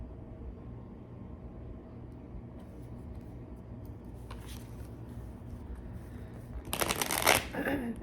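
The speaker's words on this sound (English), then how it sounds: "Let's pull some cards." A deck of cards is shuffled close by, a quick burst of riffling near the end after a quiet stretch with faint handling, without talk.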